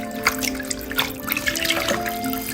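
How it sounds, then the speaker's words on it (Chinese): Sliced grass carp fillets rinsed in water, giving close, light splashing and trickling with a faint steady tonal hum beneath, brief and fairly quiet. "鱼片切好以后，过水洗一遍"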